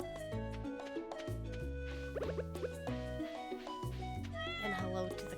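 A cat meows in a farm video game, brief rising mews sitting under steady background music that plays throughout.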